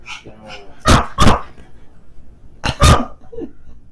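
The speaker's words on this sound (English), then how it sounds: "No, it's the dog." A dog gives two pairs of sharp, loud barks close by, with quieter rustling and faint background noise in between.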